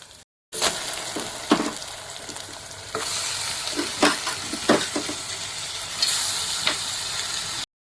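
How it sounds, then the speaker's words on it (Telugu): Ginger garlic paste sizzles loudly in a hot pan, a continuous frying hiss broken by short gaps and repeated spatula scrapes and taps as it is stirred. "అల్లం వెల్లుల్లి పేస్ట్ని పచ్చివాసన పోయే వరకు మనం ఫ్రై చేసుకోవాలండి."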